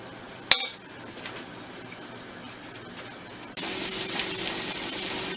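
A single sharp metallic clink of a utensil against a frying pan as meatballs are flipped, followed later by a loud steady sizzle of meatballs frying in two pans.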